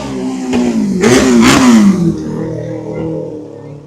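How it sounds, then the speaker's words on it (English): A single motorcycle engine rises in pitch as it passes close by on a Los Angeles street, loud and revving, then fades away with a lingering drone. "that's a lot of noise for just one motorcycle."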